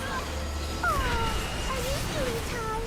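A cat meows in World of Warcraft, several short rising and falling mews spread across a few seconds under a faint background of game ambience.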